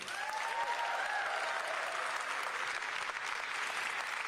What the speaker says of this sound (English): Let's give a warm round of applause for all of our Olympians and Paralympians.